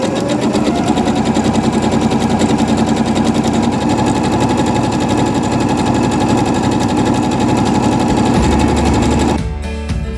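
A sewing machine stitches jersey fabric for a winter jersey dress, a fast, loud, even mechanical rattle running steadily up close before stopping abruptly near the end.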